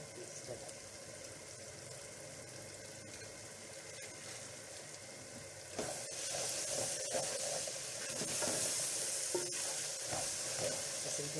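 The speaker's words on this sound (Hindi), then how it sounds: "टमाटर पेस्ट डालेंगे।" Tomato paste sizzling in a pan while being stirred, the hiss growing louder and denser partway through.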